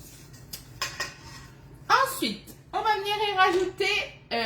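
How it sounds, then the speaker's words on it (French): Eggs and oil are whisked in a bowl, with a few light clinks of utensil against the dish, then talk comes in over the last part. "C'est parti, on fouette nos œufs et notre huile."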